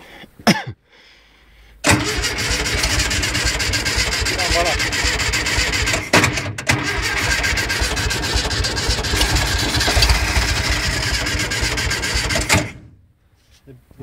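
Volkswagen T1 bus engine cranking and catching, then running with a loud, rough, steady rumble for about ten seconds before cutting off, with people talking around it.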